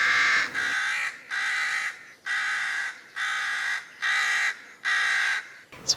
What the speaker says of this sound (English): The crows have got something to say this morning.